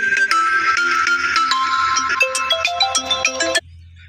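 A phone ringtone plays loud and close, a bright repeating melodic tune that steps downward near the end and then cuts off abruptly, leaving quiet room noise.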